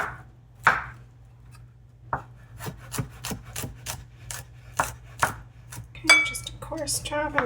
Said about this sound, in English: I'm just going to run my knife through it one more time to make them a little bit more even.